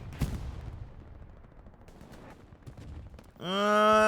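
Scattered distant gunfire and battle noise from the WWII shooter game Hell Let Loose. A sharp shot comes early, followed by faint crackling, then a loud sustained droning tone near the end.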